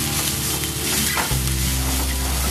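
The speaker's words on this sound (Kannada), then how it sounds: "ಟೊಮ್ಯಾಟೊ ಈಗ ಮಸಾಲ ಜೊತೆ ಎಲ್ಲ ಮಿಕ್ಸ್ ಆಗಿ ಸ್ವಲ್ಪ ಸಾಫ್ಟ್ ಆಗಲಿ ಲೋ ಫ್ಲೇಮಲ್ಲೇ ಇಟ್ಕೊಂಡು ಫ್ರೈ ಮಾಡ್ತಾ ಇದ್ದೀನಿ।" Tomatoes and spice masala with chilli and coriander powder fry on a low flame for a dried-prawn egg bhurji. A loud, close, continuous sizzle plays alone, with stirring mixed in.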